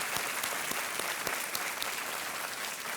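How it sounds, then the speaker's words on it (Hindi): Studio audience of a televised quiz show applauding to welcome a contestant, a dense steady clatter of many hands clapping with scattered sharper claps, lasting the whole moment. "बहुत बहुत तालियों के साथ आपका हम स्वागत करते हैं"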